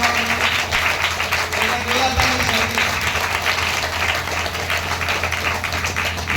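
Congregation at a Hindi satsang worship gathering gives loud, sustained applause, a dense wash of clapping that fills the room for several seconds, with voices mixed in.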